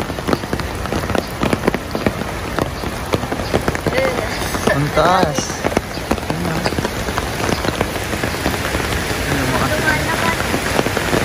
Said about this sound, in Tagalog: Lumakas pa yung ulan.